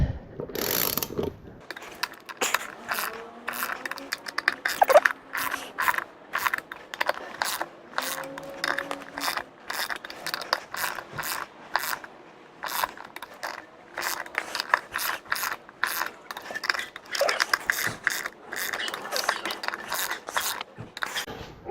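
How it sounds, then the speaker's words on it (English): A torque wrench tightening the bolts on Goldspeed ATV bead lock wheels, giving long runs of rapid ratcheting clicks in bursts close by, with metallic scraping and no talk. "We'll set my torque wrench at about 50, and we'll just go around here"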